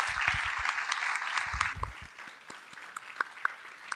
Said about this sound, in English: So can we just give him a quick round of applause,